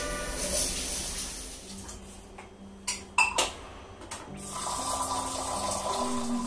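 A kitchen tap runs while rice is washed, giving a soft, steady stream of water broken midway by a few brief clatters and splashes.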